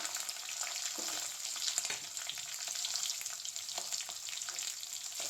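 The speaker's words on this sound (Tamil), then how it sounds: "வெங்காயம் கொஞ்சம் வதங்கிட்டு கொஞ்சம் நல்லாவே வதங்கணும்" Sliced onions and green chillies sizzle and hiss in hot oil in a pan, a continuous, even frying sound close by with no voices.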